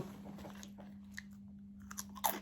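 Someone chews Thai chili dip with crispy pork rinds, producing soft close crunches and mouth sounds with a few sharper bites near the end, quiet over a low steady hum and with no speech.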